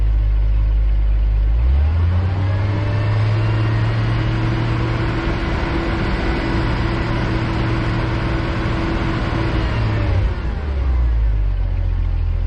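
A Jeep CJ-5 engine runs steadily as the vehicle creeps along at a crawl, a loud, continuous low rumble with a droning tone that rises after about two seconds and eases near the end.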